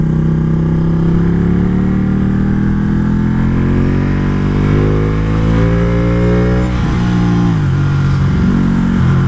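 A Ducati motorcycle engine with desmodromic valves revs loudly and steadily at close range, its pitch climbing gradually before a brief dip and recovery near the end, with no voices.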